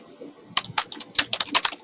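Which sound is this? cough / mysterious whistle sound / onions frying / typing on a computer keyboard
typing on a computer keyboard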